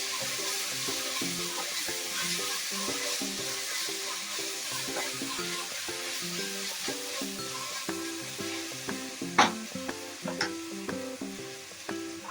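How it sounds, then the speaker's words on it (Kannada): Mutton biryani masala fries in a pan while it is stirred. A steady sizzle runs under the stirring, and in the later seconds a few sharper scrapes and clinks of the spoon against the pan stand out. "ಚೆನ್ನಾಗಿ ಕಲಿಸ್ಕೊಳ್ಳೋಣ 2 ನಿಮಿಷ."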